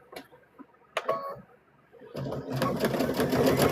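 A sewing machine double-stitches around a stuffed bear's head, starting with a few short bursts and clicks, then running steadily and loud near the end.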